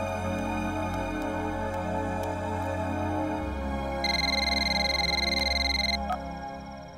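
Telephone ringing indoors: a steady electronic ring tone repeats over a constant low background hum and then cuts off.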